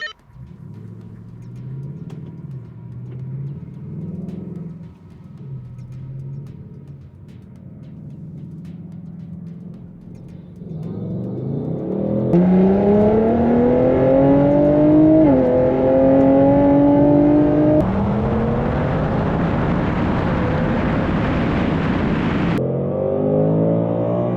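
A tuned Nissan Z and a Ford Mustang GT line up at a burbling idle on an unprepped quarter-mile surface, then launch in a drag race, the engines rising to a loud, climbing roar with gear-change dips.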